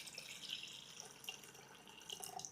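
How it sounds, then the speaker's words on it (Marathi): Water is poured into an electric kettle before steaming potatoes, a faint steady trickle with soft splashes and drips, quiet and close. "केटल आपली बंद आहे, यामध्ये आपण पाणी ओतून घेऊयात."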